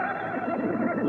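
A horse whinnies in a wavering, rising and falling call, close and fairly loud, as it is untied from beneath a tree and led toward a riverbank in an Indonesian audio drama.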